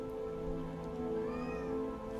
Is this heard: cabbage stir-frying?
no